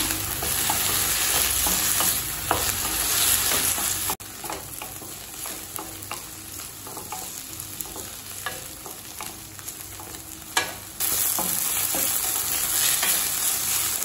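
Eggplant sautés in oil in a kadai, a loud, continuous sizzle that drops quieter midway while a spatula scrapes and clacks against the pan at irregular intervals, then swells again; no talking.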